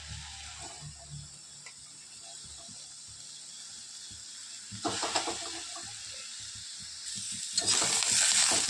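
Onion, tomato, ginger and garlic roasting in a pan on a home stove, giving a faint sizzle with light clatter that grows louder and brighter in two bursts toward the end.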